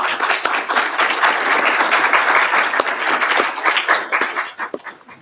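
Sustained audience applause fills a conference hall at an academic music-technology paper session, dense steady clapping that tapers off toward the end.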